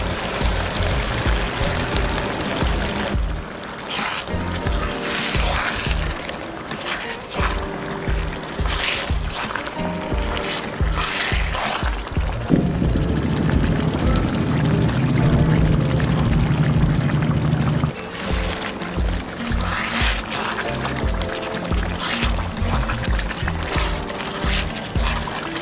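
A cup of water is poured into a pan of chicken korma masala with yogurt, giving a continuous loud splashing and gurgling pour that runs for about half a minute over a busy background.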